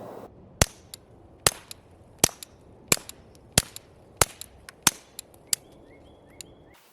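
Suppressed shots from a Beretta Model 21a Bobcat Covert pistol fitted with a Banish 22 silencer, a steady series of about nine sharp, snappy cracks roughly two-thirds of a second apart, with a few fainter clicks between them.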